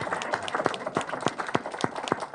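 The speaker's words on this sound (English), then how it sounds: "give Oscar Semoya Msoke a huge hand clap" An audience at an event gives a round of applause, with many hands clapping in a steady, moderately loud patter, punctuated by a few sharper, closer claps throughout.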